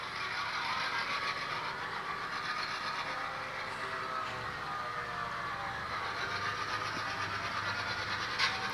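HO scale model train running along a Portland & Ogdensburg layout, a steady broadband rumble and whir with faint rhythmic rail clicks, continuous and fairly close, with no talk over it.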